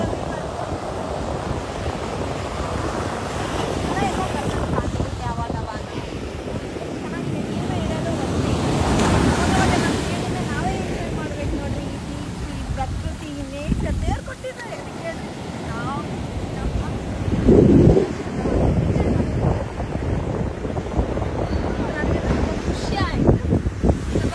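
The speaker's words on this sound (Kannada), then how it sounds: "ನಾನು ಯಾವ ಬೀಚ್ ಹತ್ರ ಇದ್ದೀವಿ ಅಂದರೆ ಕಲಂಗುಟ್ ಬೀಚ್ ಹತ್ರ ಇದ್ದೀವಿ" Surf rolls in at Calangute beach in Goa, a continuous roar of breaking waves with gusty wind buffeting the microphone, loud and steady throughout.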